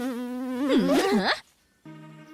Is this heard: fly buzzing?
yes